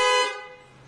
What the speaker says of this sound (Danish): Bilens horn skal have en konstant og klar tone